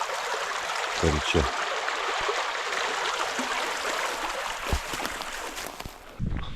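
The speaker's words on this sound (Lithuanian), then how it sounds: "Kiek čia ežeras susijungia su Kalaušu šituo upeliu" A small stream runs between lakes around Lake Alaušas in winter, a continuous broad rushing trickle close by with a few brief knocks, while someone speaks briefly over it.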